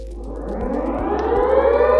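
A loud, steady electronic school bell siren tone from an interactive display swells and rises in pitch, sounding continuously without any talking.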